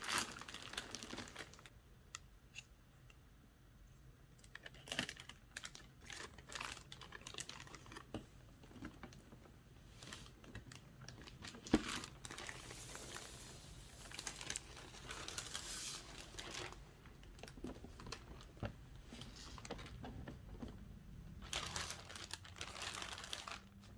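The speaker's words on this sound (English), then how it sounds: "let's take the plastic off the box here" Plastic wrap crinkles and tears as it is peeled off the box of a Hot Toys Star-Lord figure, close, crisp crackling in uneven bursts with quiet gaps, without any voices.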